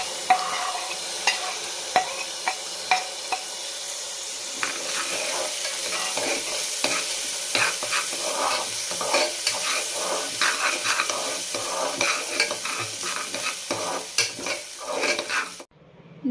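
Rice and lentils stirred and fried in ghee in a pan, a steady soft sizzle running throughout with repeated scraping strokes and light clinks of a spoon against the pot, close and fairly quiet.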